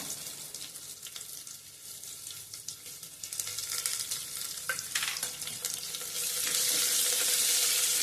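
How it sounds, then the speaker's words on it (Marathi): Thinly sliced onion frying in oil for tomato pulao, a steady crackling sizzle that swells louder toward the end, with occasional stirring scrapes and no talk. "अगदी पातळ चिरून घ्यायचा आहे आणि छान गुलाबीसर रंगावर तो परतून घ्यायचा आहे।"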